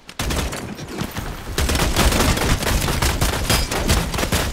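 Dense, continuous gunfire from the vampire battle royale video game Bloodhunt rattles loudly and almost without pause, with rapid overlapping shots forming a sustained fusillade.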